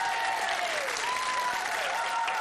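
A studio audience on the 1992 British quiz show Blockbusters claps loudly and steadily to welcome a contestant, with a musical tone sliding faintly beneath the sustained applause.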